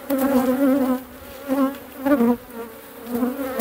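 Honeybees fly in front of their hives during a heavy nectar flow, making a close, loud buzzing drone that swells and fades as individual bees pass near.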